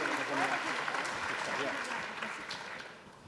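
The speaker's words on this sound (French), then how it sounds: "Je vous demande de les applaudir" A conference audience applauds as two start-up presenters arrive on stage, a brief wash of clapping at moderate distance that fades toward the end.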